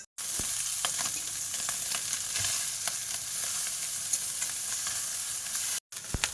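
Bay leaf and panch phoron frying in hot oil make a steady, close crackling sizzle with faint stirring clicks. The sound cuts out briefly at the very start and again near the end.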